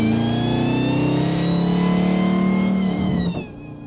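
A 1,000HP Hellcat Charger engine revs hard and holds loud and close for several seconds, then drops off abruptly with a crackling backfire as the revs fall.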